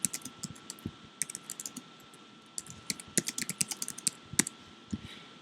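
Typing on a computer keyboard, with irregular bursts of close, crisp key clicks separated by short pauses and no talking.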